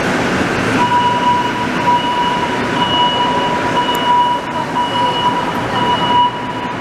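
A Montreal STM metro train runs through or at Berri station, a loud, constant underground rumble with a thin high-pitched wheel squeal and faint rattling, continuous throughout with no talk.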